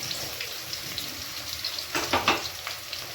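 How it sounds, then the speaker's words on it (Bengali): Onions sizzling in a pan, a steady crackling fry with a few louder bursts of spattering near the end, close and fairly quiet. "পেঁয়াজটা আমরা বেশি লাল করে ভাজবো না"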